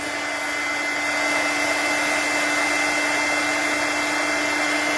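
A heat tool blows steadily onto stamped cardstock for embossing, a constant loud whirring hum with a steady tone that runs the whole time with no talk.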